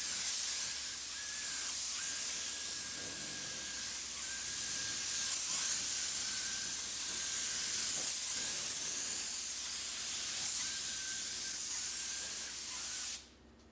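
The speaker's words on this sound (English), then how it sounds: "So the paint gun, spray gun." A paint spray gun painting a sixth-generation Camaro hisses steadily for over ten seconds, with a faint high whistle running through it, then cuts off abruptly.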